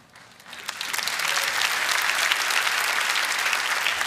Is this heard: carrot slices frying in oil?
no